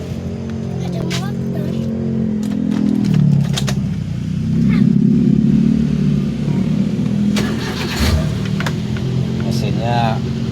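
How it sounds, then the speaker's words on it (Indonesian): A 2012 Daihatsu Gran Max blind van engine idles with a steady low rumble and a couple of mild revs, while someone talks over it. "Mesinnya normal sekali suaranya."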